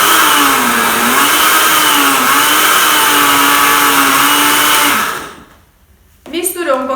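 A small kitchen blender whirs loudly and steadily while mixing whole wheat flour, its motor pitch wavering slightly, then it cuts off into near quiet before a voice begins speaking.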